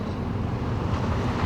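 Wind rushes steadily at the 1897 Church Street Pier in Georgetown, a low continuous rumble against the microphone under gray stormy seaside conditions, with no talking.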